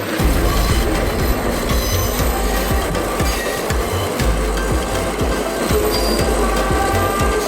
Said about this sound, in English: the train stops on the bridge for like a good 10 minutes